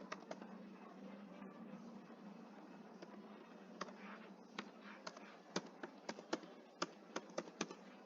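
Faint, quiet keystrokes tapped on a computer keyboard while entering an email address in accounting software, starting as a soft clatter and becoming sharper, irregular clicks toward the end.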